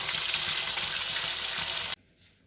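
Fish frying in a wok makes a loud, dense, hissing sizzle that holds steady and then cuts off abruptly, leaving near silence.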